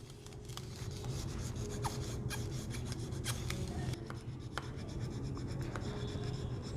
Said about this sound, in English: You take the rosin and you scrub it.